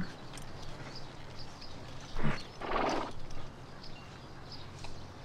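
A horse snorts and whinnies briefly in the middle, with quiet background rumble before and after.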